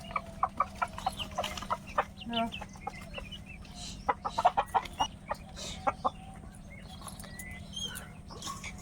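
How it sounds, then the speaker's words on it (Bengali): Chickens cluck in short, scattered bursts over a faint steady hum, fairly quiet and somewhat distant. "মুরগি বাইরে বেরিয়ে গেল কি করে"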